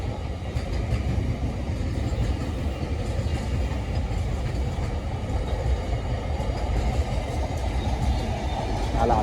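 A moving train rumbles steadily for the whole stretch, a dense continuous roar of wheels and carriages heard from close by without any voices.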